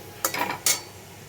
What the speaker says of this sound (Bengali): কালো জিরেটা দিয়ে দিলাম ফোড়নে,